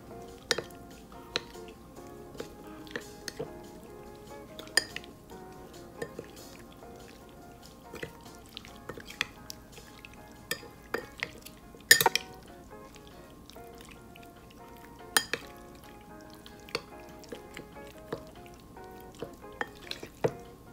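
Fish coating is mixed in a bowl with scattered close clinks, taps and soft scrapes against the bowl at an irregular rhythm over a quiet background.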